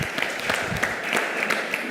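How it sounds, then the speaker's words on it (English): Crowd applause at an outdoor heritage day fair, a brisk spread of clapping with scattered louder claps standing out, moderately close and without talk over it. "Give them a round of applause"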